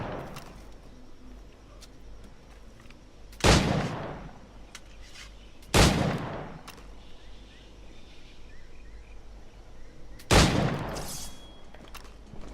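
Three loud, separate gunshot blasts from a Puckle gun in Assassin's Creed IV Black Flag, spaced a few seconds apart over a low game ambience with faint bird calls.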